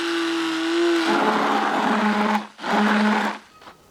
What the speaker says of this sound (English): we're gonna mix all this up with an immersion blender